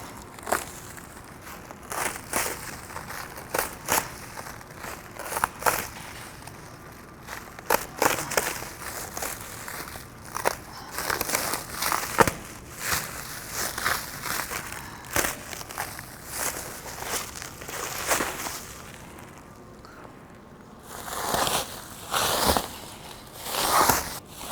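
A blade slicing down through a cardboard box while unboxing a 12-valve engine head, with repeated sharp scraping and crinkling strokes at an uneven pace, close and moderately loud, with a few quieter pauses between cuts.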